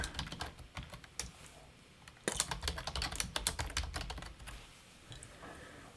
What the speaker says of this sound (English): I'm going to go ahead and type in just some text here